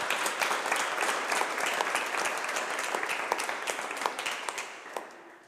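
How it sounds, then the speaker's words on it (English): Audience clapping at an EU policy dialogue event in a steady burst, a few sharp individual claps standing out, gradually thinning and fading toward the end. "we let her know that there was also a big clap for her"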